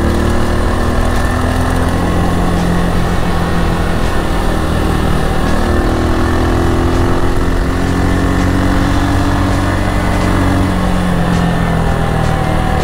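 A KM90 motorcycle runs steadily on a short ride in Infanta, Quezon, its loud, buzzing engine drone continuous and close with slight shifts in pitch throughout.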